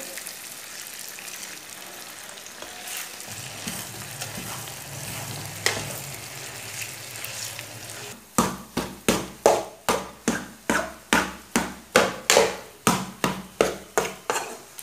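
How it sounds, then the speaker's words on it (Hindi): Makhandi halwa cooking in a pan, a soft bubbling sizzle at first, then a quick run of regular spoon scrapes and taps against the pan, loud and close, repeating about twice per second. "अब इसे चम्मच चलाते हुए पका लेंगे"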